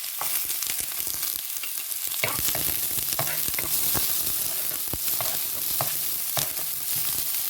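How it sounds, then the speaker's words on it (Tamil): Sliced onion frying in hot oil with already-spluttered mustard seeds, a steady close sizzle broken by sharp scraping and clicking as a spoon stirs the pan, with no talk. "இப்போ வந்து வெங்காயத்தை போடுவோம் கடுகெல்லாம் பிடிச்சிட்டு தானே அப்போ வெங்காயத்தை போடுவோம்"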